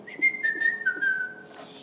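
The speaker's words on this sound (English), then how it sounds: "He would always whistle, and this jolly tune would be a pleasant song to listen to." A single person whistles a bright, wavering melodic line, clear and close, with no speech around it.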